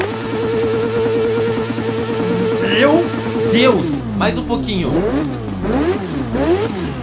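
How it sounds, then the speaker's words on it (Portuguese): A super motorcycle in the racing game The Crew Motorfest holds a loud, close engine drone, then revs hard in rapid rising and falling sweeps, while someone talks excitedly over the early part. "Olha essa super moto e se liga no barulho dela"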